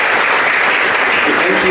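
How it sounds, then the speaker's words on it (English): Conference audience applause, a steady dense wash of clapping at close range throughout, with faint voices mixed underneath. "give a round of applause for these guys"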